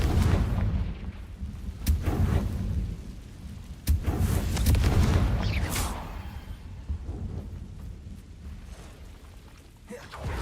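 Confringo spell explosions from Hogwarts Legacy: several loud booming blasts with rumbling tails, the strongest near the start and middle, followed by a fading crackling decay.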